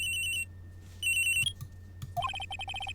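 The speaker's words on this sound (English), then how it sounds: "I received a call on my cell phone." A cell phone rings in the Ace Attorney video game, bursts of bright electronic trilling tones broken by short pauses, then a quick run of rising beeps leading into another ringing burst, clear and alone.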